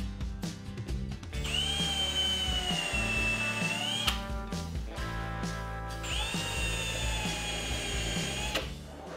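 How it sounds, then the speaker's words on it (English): A power drill with a countersink bit whines through plywood in two separate bursts, each rising in pitch and then stopping, with brief pauses between them. "I'll drill through at my mark, then flip the plywood over and countersink the hole on the outside."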